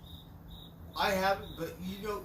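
Crickets chirp in a steady, faint high trill throughout, continuing at low level while someone talks over the second half.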